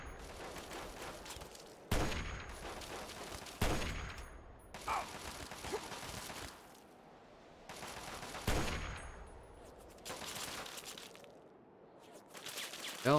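Gunfire in the video game Operation: Anchorage DLC: repeated bursts of rapid automatic shots and single loud cracks, separated by short gaps, with faint mechanical clicks between volleys.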